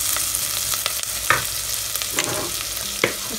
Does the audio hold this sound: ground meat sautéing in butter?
yes